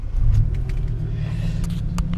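Low, steady engine rumble inside a moving Mitsubishi Pajero with manual controls, close and continuous, with a few faint clicks over the drone and no talking.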